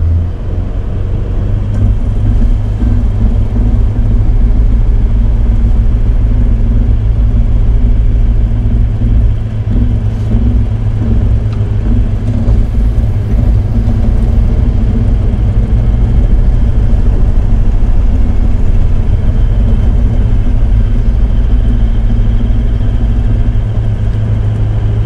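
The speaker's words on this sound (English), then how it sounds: "Back into drive. Crawl control on, high speed. Let the car do its own thing." Steady low rumble of a Toyota Land Cruiser engine working in crawl control while stuck in soft sand, a loud, constant drone with no pauses.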